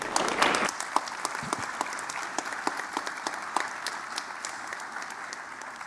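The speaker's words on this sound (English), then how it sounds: "Let's give a round of applause for everyone who has supported us throughout the years." Audience applause at a school National Honor Society induction ceremony, a crowd clapping steadily with individual claps audible, a louder burst at the start before settling into moderate, evenly sustained clapping.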